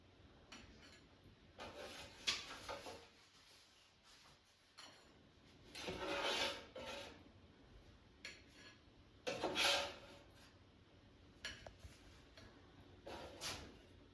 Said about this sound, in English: So I'm just going to carefully remove it from the air fryer.